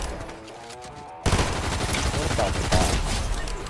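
Rapid bursts of gunfire in Fortnite, a quiet stretch followed by loud clustered shots and automatic fire that continue to the end, with players talking faintly underneath.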